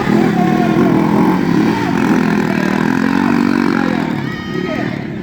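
Motorcycles race in a novice-category event, engines buzzing loud and close in a continuous revving whine that shifts pitch and fades slightly at the end, with an announcer talking over it.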